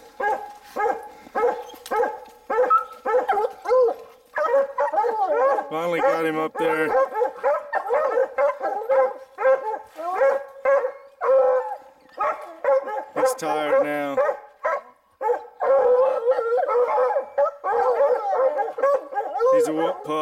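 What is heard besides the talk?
hunting hounds baying at a treed mountain lion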